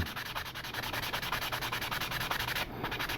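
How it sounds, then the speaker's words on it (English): Close, soft rhythmic rubbing of a 3M fine sanding sponge on a 1/72 scale model kit, quick even back-and-forth strokes with a faint papery scratch. "this is a 3M fine sanding sponge, and we're going to sand until it's gone"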